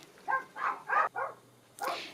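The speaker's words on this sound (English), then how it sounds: "Sorry about the dogs." Several dogs bark in quick bursts indoors, four sharp barks close together followed by a pause and one more bark, fairly loud and with no talk over them.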